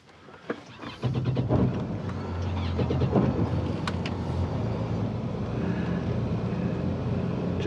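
A boat's engines idle at low RPM, around 1,800, while the boat backs toward a dock into the wind: a steady low rumble that starts abruptly after a second and holds constant, with some wind noise over the microphone.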